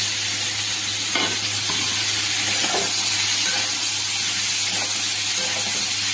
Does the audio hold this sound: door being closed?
no